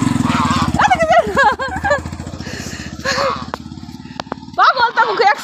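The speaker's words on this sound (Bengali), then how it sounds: "এই পাশে এ না মোটরসাইকেল আইতাছে" A motorcycle engine putters steadily close by with a loud, rapid pulsing drone throughout, while people shout and talk over it.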